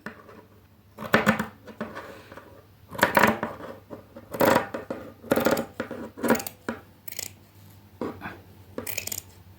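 Scissors cut through an old knit sweater to shape a beret, a close series of crisp snipping and rustling strokes in irregular bursts, with no talking.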